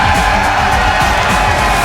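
CLG fans in an esports arena crowd at a League of Legends match give a standing ovation, a loud, dense wall of cheering and whooping that stays steady throughout.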